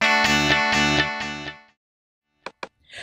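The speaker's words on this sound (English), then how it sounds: "Here is the same strum with a phaser effect along with an echo." Guitar strum treated with phaser and echo effects in GarageBand: three loud repeating swirling chords fading out, then silence and a couple of brief faint echo blips at the end.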